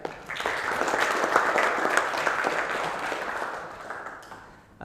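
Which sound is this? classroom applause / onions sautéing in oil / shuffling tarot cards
classroom applause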